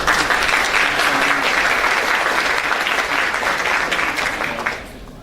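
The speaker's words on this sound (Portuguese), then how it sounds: "Salve de palmas." An audience at a Python microservices tech talk claps steadily for about five seconds, loud and close, before the clapping suddenly drops off.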